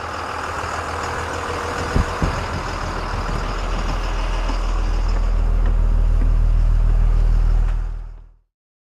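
A school bus engine running steadily, a loud constant low rumble that grows slightly stronger before cutting off abruptly at the end, with a couple of brief clunks early on.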